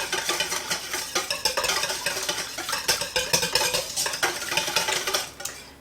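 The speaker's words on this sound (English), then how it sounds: "So I'm going to whisk them together." Eggs being whisked together for spaghetti carbonara make a fast, rhythmic clatter of metal against a bowl that runs steadily throughout.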